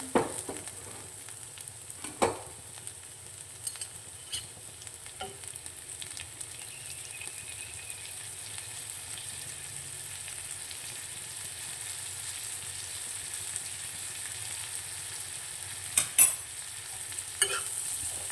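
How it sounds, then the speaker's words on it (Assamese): Butter sizzles and crackles steadily in a pan with homemade jackfruit-seed paneer as a spoon stirs it, with scattered scraping knocks over a continuous frying hiss, faint and close, no voices. "বাটাৰ দি মই লৰাইছোঁ"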